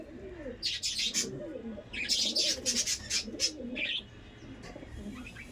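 Andhra pigeons coo softly in repeated, rolling low calls close by, while faint chirps and twitters flutter above them.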